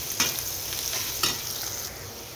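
Spices with dry chili powder sizzle in a pan while a spoon stirs them, a continuous frying hiss broken by two brief scraping strokes, close and without talk.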